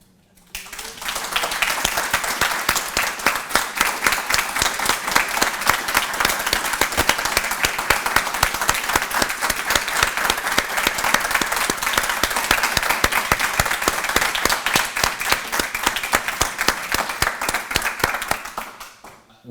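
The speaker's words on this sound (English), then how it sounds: "This is the superpower part, so you get to clap" An audience claps at a university award and medal ceremony for an endowed professorship, dense sustained applause that swells within a second, holds evenly for about seventeen seconds and then quickly dies away, filling the hall with no voices.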